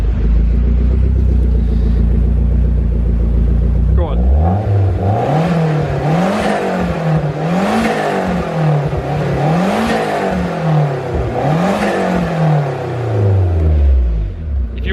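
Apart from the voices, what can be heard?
turbocharged classic car engine rumbling and revving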